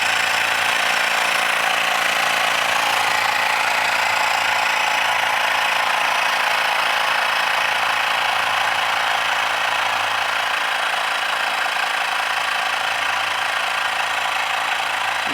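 A portable MI electric air compressor runs steadily while inflating a tyre, a constant buzzing, rattling motor drone held close and loud throughout with no pauses or speech.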